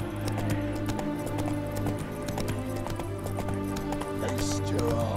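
Roach the horse's hooves galloping in a video game, a steady rapid clip-clop rhythm over a continuous backdrop of music, with a voice speaking briefly.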